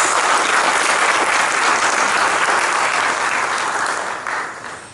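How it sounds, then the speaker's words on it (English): An audience at an Auckland Guru Purnima celebration gives a loud, dense round of applause that holds steady and then tapers near the end. "Can we please give her another round of applause?"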